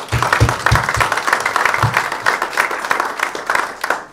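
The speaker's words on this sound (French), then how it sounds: "applaudissons-les." At a Sainte Barbe firefighters' celebration, an audience applauds the firefighters' families with loud, lively clapping, a few heavy close claps punching out at the start before settling into a thick, sustained round that swells again at the end.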